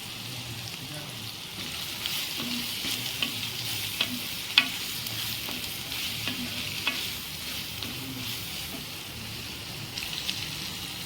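Onions softening with turmeric and chicken frying in a pan, a steady close sizzle with scraping stirs and occasional spoon taps throughout, no voices.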